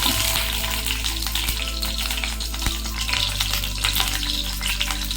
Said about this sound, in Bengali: দারচিনি, এলাচ, 2টো লং আর কিছু গোলমরিচ। হালকা হাতে 2 সেকেন্ডের মতো এটা একটু নাড়িয়ে নেবো।